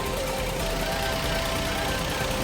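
A Toyota 2JZ engine idles steadily with worn transmission and engine mounts, a continuous even drone with a faint ticking texture, close and unbroken for a couple of seconds.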